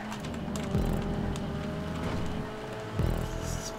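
Car spinning out with tires skidding in GTA 5 Online racing, engine droning throughout with two sharp low skid swoops, one early and one near the end.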